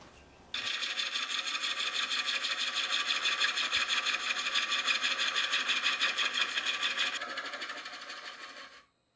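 A wood lathe turning a tenon on a bowl blank, with the tool cutting into the spinning wood as a steady, loud, buzzing rasp that holds for several seconds, then eases off and fades as the cut ends.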